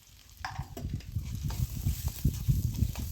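Masala powder, cumin and turmeric are stirred in a pan for fish curry, a close, steady scraping and sizzling with irregular spoon strokes, no talking.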